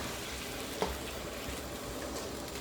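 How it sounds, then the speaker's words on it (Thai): Water goes into a pan of stir-fried pork with curry paste and pickled bamboo shoots, giving a steady soft hiss and sizzle with one brief splash. "ทีนี้เราจะเติมน้ำลงไปนิดนึงนะคะ"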